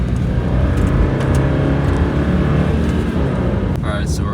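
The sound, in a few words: car driving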